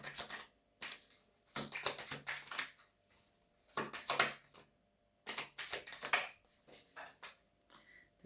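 Tarot cards shuffled in repeated quick bursts, each a crisp riffling flutter lasting about a second, separated by short pauses, close and fairly loud with no talking.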